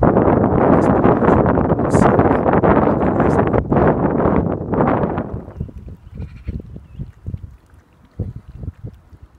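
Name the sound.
wind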